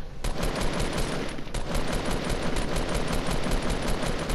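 Gunfire in the Fortnite video game: a loud continuous stream of rapid automatic shots, steady and close throughout, with no talking.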